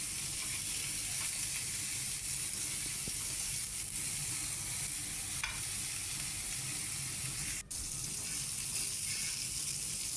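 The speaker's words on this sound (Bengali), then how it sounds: "নুন আর হলুদ দিয়ে আলু পটলটাকে ভেজে নিয়ে আলু পটলের মাছের তরকারি করব" Cubed potato and pointed gourd fry in a pan with salt and turmeric, giving a loud, continuous close-up sizzle with faint stirring scrapes throughout.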